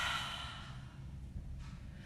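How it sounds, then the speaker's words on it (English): A soft open-mouth exhale during a vinyasa yoga flow, one long breath that fades gently, heard close and quiet with no talking. "Use your open mouth inhales and exhales."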